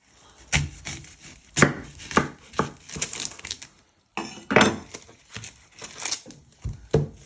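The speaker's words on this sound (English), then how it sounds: "You first want to chop your end off." Kitchen knife chopping the ends off an onion on a cutting board, a series of sharp close taps and crisp crunches, with a brief pause midway.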